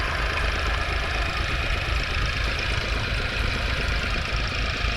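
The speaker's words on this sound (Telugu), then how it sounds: "ఈ మోటార్స్ ఇక్కడ వచ్చి 2 వర్క్ చేస్తున్నాయి ప్రజెంట్" Motor pumps, one a double engine, draining floodwater from a tower construction site in Amaravati, a loud, steady, close engine drone with a rough throbbing rumble throughout and no pauses.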